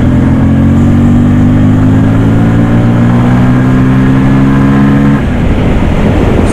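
A 2024 Bajaj Pulsar N250 motorcycle engine drones loud and close while riding on an open road, a steady rising mid-pitched hum that drops off near the end, with wind noise throughout.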